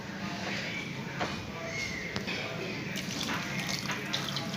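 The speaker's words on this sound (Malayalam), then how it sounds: "ഇനി നമുക്ക് ഈ ബൗളൊന്ന് കഴുകി ഒഴിക്കാം." Water splashing as a bowl is rinsed while cooking a kudampuli chura fish curry, with a continuous close running and sloshing wash and a few sharp knocks.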